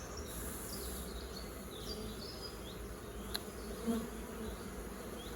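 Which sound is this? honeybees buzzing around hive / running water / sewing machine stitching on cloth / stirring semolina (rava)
honeybees buzzing around hive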